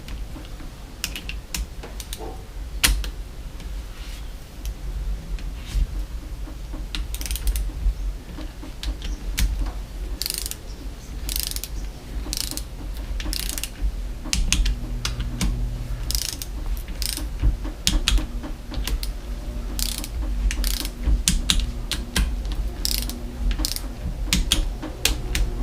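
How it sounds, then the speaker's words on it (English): An inch-pound torque wrench ratchets while tightening bolts in a crisscross pattern on a 2003 KTM 250 SX dirt bike, giving scattered bursts of small mechanical clicks over a low workshop hum, with no talking. "So I've got the inch-pound wrench set to 9, so we'll start with that in a crisscross configuration."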